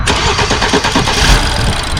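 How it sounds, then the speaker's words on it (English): A 2012-2016 BMW F30 328i engine cranking and catching, loud and close, rising into a rough idle with brief revving from the gas pedal. "Start it again, hit the gas pedal."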